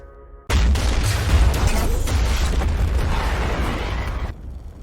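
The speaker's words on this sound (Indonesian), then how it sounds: "memegang HP untuk memicu ledakan besar, dan inilah yang terjadi" A big explosion set off by a mobile phone in a yakuza action film: a sudden, loud, close blast that roars on steadily for about four seconds before cutting away.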